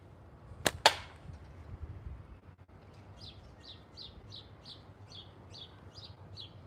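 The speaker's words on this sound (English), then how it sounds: "Birds are going crazy this morning." A bird outdoors in the morning calls in a steady series of about ten short, bright chirps at a fast, even pace, moderately distant, following two sharp snapping shots from a slingshot.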